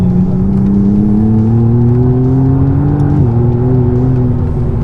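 A McLaren Artura supercar powers hard out of a track corner, its loud, close engine note climbing steadily in pitch, with a brief dip at a gear change before it pulls on.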